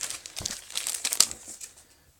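Foil wrapper of a Pokémon Evolutions trading card pack crinkles and tears open in a brief close burst of crisp rustling that fades out after about two seconds.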